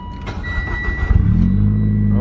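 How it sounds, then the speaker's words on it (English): A car engine starting up in rainy weather: the starter cranks briefly, then the motor catches and settles into a steady low idle, heard close up with a voice speaking over the start. "So let's turn this car on."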